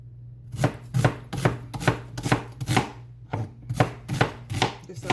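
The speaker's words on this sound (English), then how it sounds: "Just a rough chop, just so it cooks evenly." Rhythmic knife chopping on a cutting board, about a dozen firm close strokes at a steady pace, with no talking.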